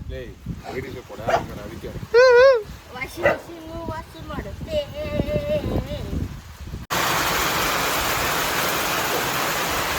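Dogs bark and yip at a farm with goats among talking voices, short barks mixed with speech, followed by a steady rushing noise.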